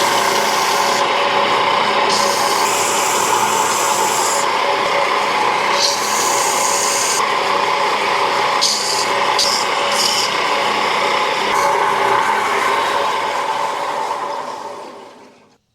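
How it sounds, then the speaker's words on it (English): A wooden DIY phone holder being sanded with a power sander, a loud, continuous whirring grind that holds steady with slight shifts in pitch, then tapers off at the end. "Now give it a sand."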